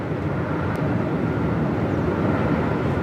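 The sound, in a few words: Singapore Airlines Airbus A350-900 arriving at Melbourne Airport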